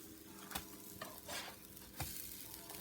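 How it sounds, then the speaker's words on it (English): Pancakes cook on a griddle with a soft, quiet sizzle, broken by a few scraping and tapping knocks from a utensil. "So now that the pancakes have been cooking for about 3 to 4 minutes, bubbles are starting to form on the outside"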